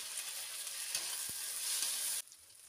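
Chopped onion and tomato fry together in a pan, making a brief, steady sizzle with a few stirring knocks before the sound cuts off abruptly.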